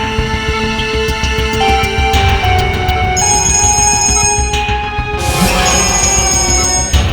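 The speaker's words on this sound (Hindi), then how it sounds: "डीसीपी चित्रोले साहब का बार-बार फोन आ रहा है" A telephone rings over and over, a steady electronic ringtone with bright tonal bursts, close and fairly loud, with no talk over it.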